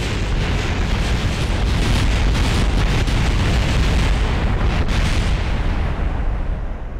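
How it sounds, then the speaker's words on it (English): A spacecraft blowing up while descending through Neptune's atmosphere in a video game: a sustained, loud, roaring blast that rumbles densely and without a break for about seven seconds, easing slightly at the end. "I actually quit after that explosion"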